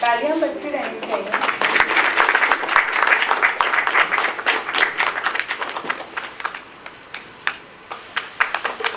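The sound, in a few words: audience applause at a stage event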